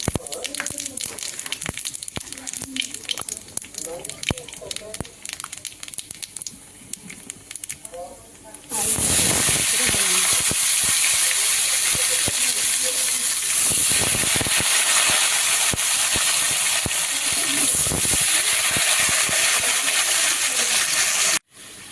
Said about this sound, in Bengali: কড়ায় পাঁচ ফোড়ন দিয়ে দিলাম